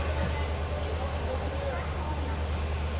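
Rajdhani Express pulling into Guntakal Junction railway station at night, a steady low rumble of the train with a faint high whine, continuous and close.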